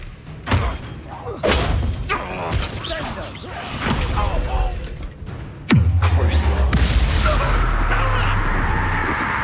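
In the Hogwarts Legacy game, a Bombarda spell bursts with a heavy, close booming thud, preceded by several scattered impacts and followed by a loud rumbling tail, while a voice speaks over the action.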